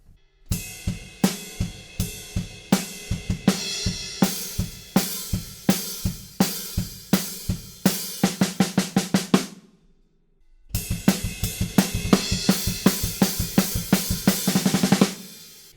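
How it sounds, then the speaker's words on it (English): A rock drum kit playing the close of a chorus, steady loud hits accelerating into a rapid build-up, then a sudden stop and a brief silence before the beat returns, close and without voices. "And then to finish this first chorus, we have another build-up going into a stop."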